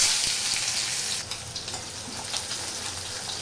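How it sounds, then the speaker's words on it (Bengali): Onions with whole cumin frying in hot oil in a kadai, a dense continuous hiss of sizzling with a few soft stirring knocks, close and steady. "লাল লাল করে ভেজে নিই"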